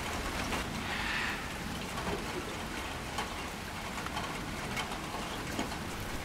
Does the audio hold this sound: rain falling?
yes